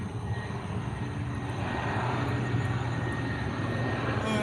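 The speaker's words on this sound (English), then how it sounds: "There's the C-130. That's what you're hearing." A C-130 military transport aircraft passes overhead, its steady, loud propeller-engine drone filling the whole stretch without a break and without any voices.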